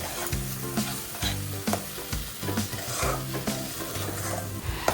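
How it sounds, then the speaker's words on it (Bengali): Spice paste for a paneer and cauliflower curry fries with a loud, dense sizzle, while a spoon stirs it in rhythmic scrapes and occasional clanks against the pan, close and steady throughout, without talking. "সামান্য জল দিয়ে আবারও মশলাটিকে ভালোভাবে কষাতে থাকবো"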